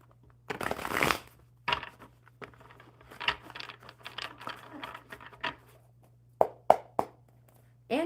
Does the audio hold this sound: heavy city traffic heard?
no